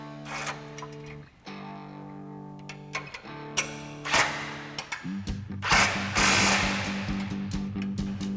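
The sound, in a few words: impact wrench with 18mm socket tightening bumper bolts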